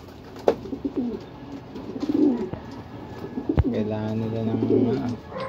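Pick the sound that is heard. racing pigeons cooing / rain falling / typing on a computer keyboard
racing pigeons cooing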